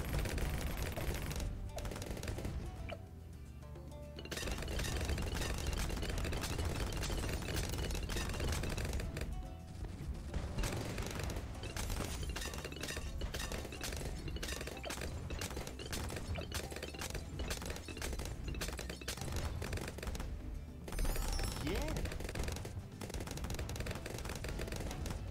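A Dartling gunner tower in a Bloons tower defense game fires in dense, rapid bursts, with continuous rattling shots layered over game sounds and a few short gaps.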